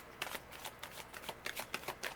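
A thick tarot deck being shuffled by hand, with a run of quick, crisp riffling bursts that repeat in an uneven rhythm, close and fairly quiet.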